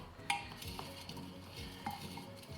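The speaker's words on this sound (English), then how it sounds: "I'm gonna stir it up." Potting mix with coconut husk being stirred in a pot, a steady close scraping and soft gritty shuffling with a few sharper clinks against the container.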